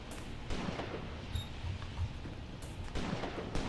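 Gunfire in the WW2 tactics game Graviteam Tactics: Mius Front during a marsh battle: scattered, fairly distant cracks and muffled booms over a constant rumbling battlefield backdrop.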